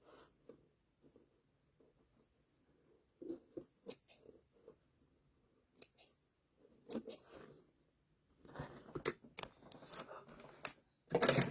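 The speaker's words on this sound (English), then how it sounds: "So I'm cutting all my jump threads." Small scissors snip jump threads on embroidered Sunbonnet Sue and Sam quilt blocks, giving sparse, quiet clicks and rustles that grow busier and crisper toward the end, with no talking.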